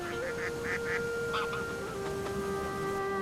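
Migrating waterbirds honk and call at a Chinese lake used as a stopover between East Asia and Australasia, with a run of quick repeated goose-like honks over a steady background din and a long tonal drone running beneath.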